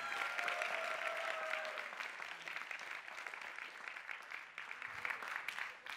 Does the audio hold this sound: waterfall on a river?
no